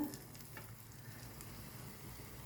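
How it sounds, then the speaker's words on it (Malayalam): Bottle gourd fritters fry in hot oil over a medium flame, giving a faint, soft, continuous sizzle with a few quiet crackles. "പാത്രത്തിൽ എണ്ണ ചൂടാകുമ്പോഴത്തേക്കും നമുക്ക് ഓരോന്നോരോന്നായിട്ട് ഇട്ട് കൊടുക്കാവുന്നതാണ്"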